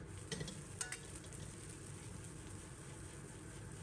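Soy sauce fried rice is stir-fried in a wok, giving a steady, faint sizzling hiss with a few light scraping and clinking accents near the start.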